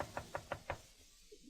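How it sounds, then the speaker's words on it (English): In a radio drama sound effect, four quick, evenly spaced knocks sound on a door, faint and slightly distant, and then fade into quiet room tone. "knocked on the door of Holiday Inn"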